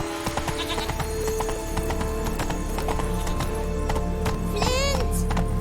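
Roach, a horse in The Witcher 3 game, trots with steady clip-clop hoofbeats, and near the end a short whinny rises over the ambient game sound.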